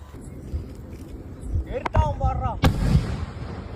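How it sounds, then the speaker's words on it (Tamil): A 4-inch pipe firework being set off, sharp cracking bursts with crackling in between over low rumbling, outdoors during Diwali. "மெயினான மேட்ரே இந்த 4 இன்ச் பைப்பு தான்."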